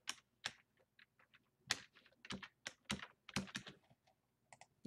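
A password typed on a computer keyboard, with irregular clusters of crisp key clicks and pauses between them, close and quiet, with no voices.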